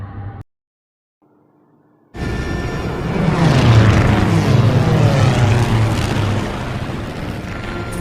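Japanese fighter planes fly in to attack Pearl Harbor in a film, with a short sound, then near silence, then a sudden loud roar of propeller aircraft engines that swells with sweeping passes and booming rumble.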